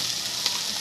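Shredded cabbage sautéing in hot oil in a pan, giving a steady, soft hiss of sizzling with one small pop, close and fairly quiet.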